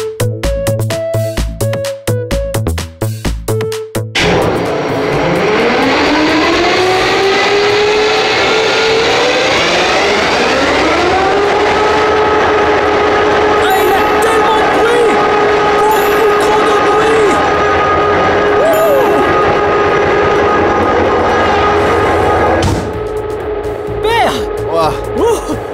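A train locomotive's engine starts after some short knocking sounds, then runs as a loud, steady drone whose pitch rises as it speeds up and then holds, before easing off near the end.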